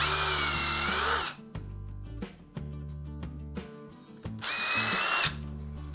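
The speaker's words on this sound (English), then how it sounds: "Now I'm gonna drill it all the way through with a smaller drill bit. And we're gonna use 1/8 inch drill bit." A power drill with a 1/8 inch bit bores all the way through wood for a bathroom floating shelf, whining loudly in short bursts with pauses and changes in pitch, close up and alone.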